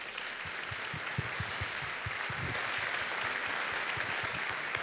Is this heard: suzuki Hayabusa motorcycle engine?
no